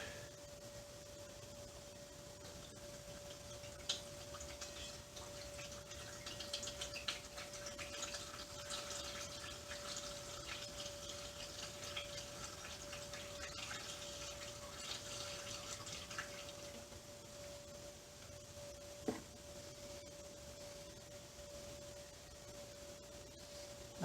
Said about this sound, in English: Pour it in the tank.